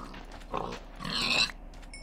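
Pigs in the Minecraft video game giving two short grunts, a low one followed by a louder, longer squealing oink, close and clear.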